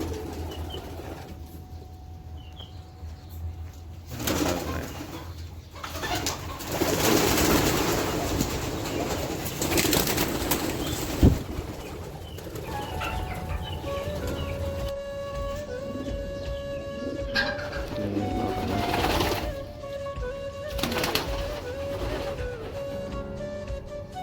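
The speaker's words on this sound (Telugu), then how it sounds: "ఎన్ని పావురాలు" Pigeons cooing among goats and trees on a farm plot in Kuwait, with soft repeated coos and occasional wing flaps over steady outdoor background noise, the birds fairly close and moderately loud throughout.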